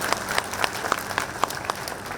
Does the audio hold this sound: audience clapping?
yes